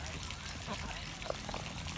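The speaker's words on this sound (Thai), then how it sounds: "นี่นะครับฝูงน้องเป็ดนะครับกำลังว่าย เล่นน้ำอยู่นะครับ" Ducks swimming in a pond quack now and then amid a busy outdoor wash of chatter and background noise at a cafe in Sai Noi, Nonthaburi, the calls fairly faint and scattered.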